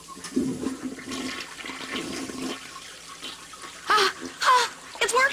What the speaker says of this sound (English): Okay, I'm gonna try flushing again.